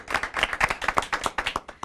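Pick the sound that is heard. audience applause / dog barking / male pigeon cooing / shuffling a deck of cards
audience applause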